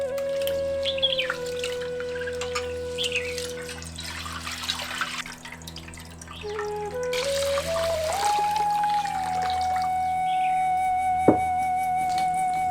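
Water poured into a cooking pot for boiling rice and lentils for sambar, a trickling stream whose pitch rises steadily as the pot fills, with birds chirping in the background outdoors.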